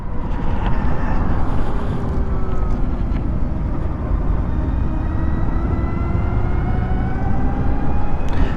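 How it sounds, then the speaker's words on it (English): A Harley Davidson LiveWire electric motorcycle whines faintly while riding, with thin rising and falling motor tones over heavy, continuous wind rush. "the electric motor, you can hear it whining a little bit"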